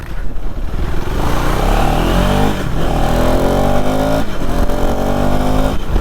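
A KTM Adventure 390 motorcycle accelerates hard to overtake a car on a long highway ride to Chikmagalur. The engine note climbs loud and close through rising revs, dips briefly at a gear change, then climbs again under steady wind roar.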